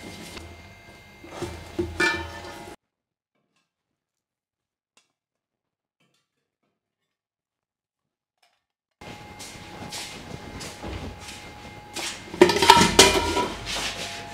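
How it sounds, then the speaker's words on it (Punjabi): Tins and steel containers being washed by hand in a home kitchen, with bursts of clattering metal and clinking utensils at the start, a long silent gap, then denser scraping and banging of dishes toward the end. "ਮੈਂ ਤਾਂ ਡੱਬੇ ਸਾਫ਼ ਕਰਦੀ ਤੀ"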